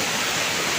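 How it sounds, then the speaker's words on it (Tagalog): Heavy typhoon rain pours down as a steady, loud broadband hiss with no breaks, close and all-enveloping. "Lakas na ulan."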